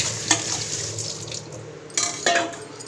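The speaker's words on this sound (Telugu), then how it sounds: "ఫ్రై చేస్తున్నాను నాన్న" Carrots fry and get stirred in a pan, giving a steady close sizzle broken by a few sharper scraping stirs near the end.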